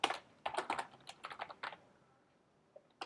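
Close, crisp clicking of a computer keyboard, quick uneven bursts of keystrokes that trail off into a pause before a final couple of taps.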